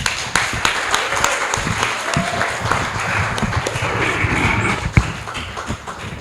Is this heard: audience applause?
yes